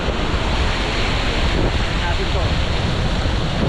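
Big ocean waves at high tide surge and roar in a steady, loud wash. Heavy wind buffets the microphone, and someone speaks briefly over the noise.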